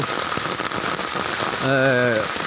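Steady rain pattering on a surface fills the scene during severe flooding in Noakhali, Bangladesh, with a brief voice rising over the downpour toward the end.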